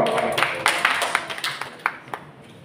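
A short burst of light applause from a small group at a school debate competition, scattered claps fading out after a couple of seconds.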